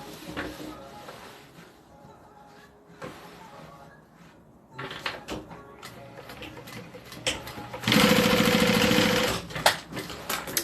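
A sewing machine stitches fabric bag pieces together in short runs, with clicks and handling noises between them and a louder sustained whirring burst near the end.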